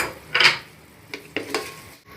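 Whole cinnamon, cloves and black peppercorns lightly frying in a pot for potato pulao, brief scraping stirs and clinks of a utensil against the pan with soft sizzle between.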